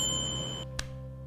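A single bright bell ding sound effect rings once, sharp and clear, then fades into quiet.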